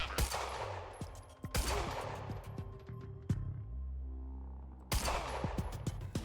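Rapid automatic gunfire from the video game Quantum Break crackles in loud bursts, with a quieter pause and a lingering hum in the middle before another burst.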